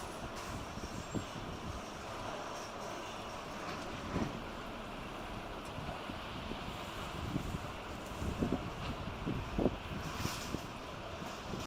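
Strong wind at an airport during a Swiss A321neo go-around, heard as a steady, rushing roar of buffeting microphone noise with a few faint bumps, without any clear engine tone or voices.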